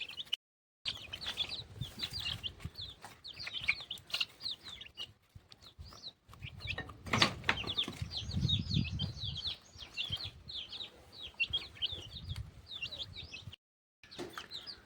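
Free-range village chickens cluck and chirp at a country poultry farm, with many calls overlapping steadily across the yard, some near and some farther off, with no talk.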